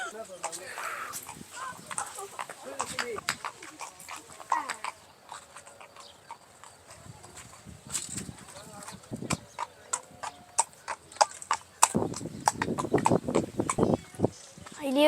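Horse hooves clip-clop steadily on a farm in the UAE as a child rides, with people talking over it and some farm birds calling in the background.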